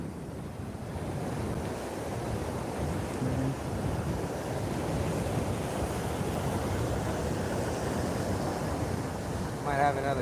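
Ocean waves break and wash continuously below a fishing pier, a broad steady roar of surf mixed with wind buffeting the microphone, with a faint rattling click near the end.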